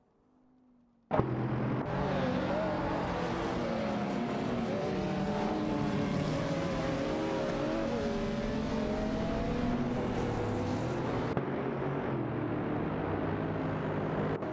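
Racing cars in a video game, including a Mercedes SLR McLaren, roar steadily around a track with continuous engine drone and shifting revs. It starts abruptly and runs without pause and without speech.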